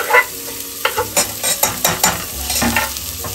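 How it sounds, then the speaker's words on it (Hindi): Sliced onions and green chilies sizzle in hot oil in a pressure cooker over high flame, close up, with repeated scraping stirs of a spoon against the metal pot and no talking. "तेज आंच पर इसको थोड़ा फ्राई करेंगे"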